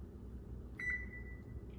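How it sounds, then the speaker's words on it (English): A kitchen oven timer being set while chicken drumsticks bake gives one short electronic beep, with a fainter tone trailing briefly after it. The beep is clear over a low steady room hum. "We're going to set our timer"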